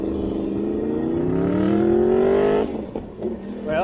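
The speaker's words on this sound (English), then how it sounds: "some people still like their big bikes and loud noises" A loud big motorcycle on Jomtien Beach Road, Thailand, revs up, its pitch climbing steadily for a couple of seconds before the throttle drops off.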